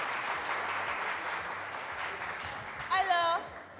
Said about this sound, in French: Applaudissez la direction.